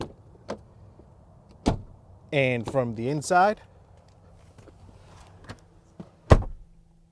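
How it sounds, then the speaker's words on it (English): A 2022 Infiniti QX60's doors are opened and shut from the outside, with a few sharp, solid thuds and latch clicks spaced apart, while a person talks briefly in between. "door open and close sound from the outside"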